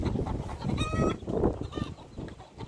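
Desi gavran chickens cluck and squawk nearby in short, overlapping calls with a busy background.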